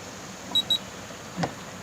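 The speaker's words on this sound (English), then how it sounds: "I heard a quick little beep beep." Two quick, faint high-pitched electronic beeps in close succession from an RV keyless entry door lock, followed by a soft mechanical click in a quiet room.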